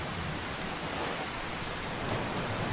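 Steady rain falls in Elder Scrolls V: Skyrim on the island of Solstheim, a soft, even hiss of drops pattering on surfaces, with no voices over it.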